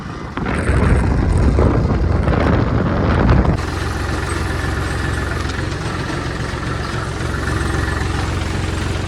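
A diesel tractor engine rumbles loudly at first, then settles into a steady, low idling chug that continues without a break.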